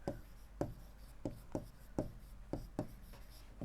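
A teacher writes a number during a class-six maths lesson, making a quiet, regular series of about eight crisp scratching strokes, each a short tap, with no talking over them.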